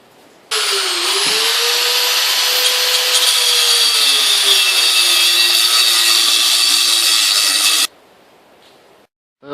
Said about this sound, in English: let's get started on some grinding